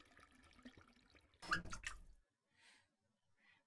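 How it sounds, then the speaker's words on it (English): A busted faucet in the horror game The Crooked Man splashes and drips in a short burst of running water, followed by a few fainter isolated drips in near silence. "Yikes, the water. Is the faucet busted?"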